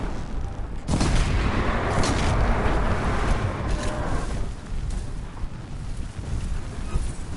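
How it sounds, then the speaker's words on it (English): Distant explosions and gunfire-like booms in the video game Horizon Zero Dawn, a loud continuous rumbling barrage that begins abruptly about a second in and stays dense before easing slightly toward the end. "Explosions in the distance."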